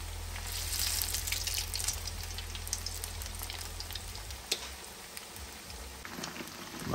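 Chicken pieces for chilli chicken fry in oil held at medium heat, giving a steady, close crackling sizzle throughout with a low rumble fading midway and a few sharper pops.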